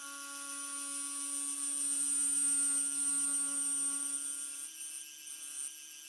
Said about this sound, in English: Here I'm milling the template.